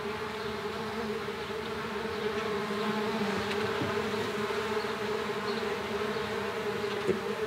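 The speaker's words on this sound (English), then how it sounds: "They're called fuzzy foot bees." Fuzzy foot pollen bees buzz together in a steady, droning chorus, the hum continuous and fairly close with no voices over it.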